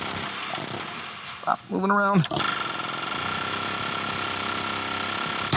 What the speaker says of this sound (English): Is the air hammer really that much stronger?